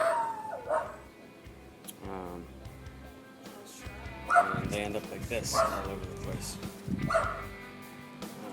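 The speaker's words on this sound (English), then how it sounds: "this dog is going mental" A dog barks and yips repeatedly outdoors by berry bushes, a few close, loud barks scattered through the clip while someone talks over them.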